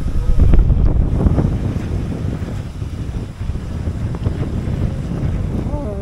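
Floodwater after Hurricane Beryl rushing like a river across a former parking lot, a loud broadband roar and wash with gusty wind buffeting the microphone, continuous and near.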